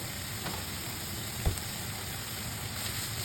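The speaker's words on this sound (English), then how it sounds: "You start by sautéing garlic in a little oil" Garlic sautéing in a little oil for Filipino pork giniling, a constant close sizzle and hiss with one brief knock of a utensil partway through, no talk.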